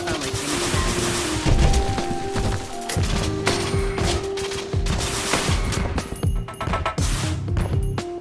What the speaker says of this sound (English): Oh no, it fires a whole salvo.